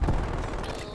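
Gunfire in the video game Call of Duty Cold War, with a single loud, close shot whose boom decays quickly within under a second.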